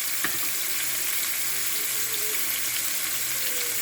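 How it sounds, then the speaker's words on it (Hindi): Chopped tomatoes and spices hit golden frying onions in a pan, raising a loud, steady sizzle with faint stirring clatter throughout; no talking. "अब हम डालेंगे इसमें कटे हुए टमाटर और साथ ही हम इसके मसाले भी ऐड करते जाएंगे।"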